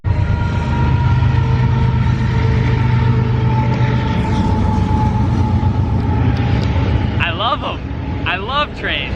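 A train rumbles past loudly and close, a sustained heavy roar with metallic squeals rising toward the end.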